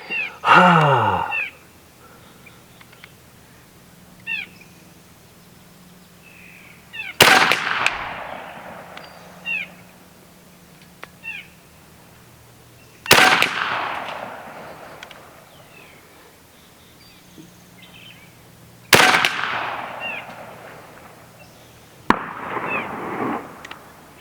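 An airgun fires round nose pellets at a target outdoors: four sharp, loud cracks spaced several seconds apart, each with a short ringing decay, between quiet stretches with faint chirping cries.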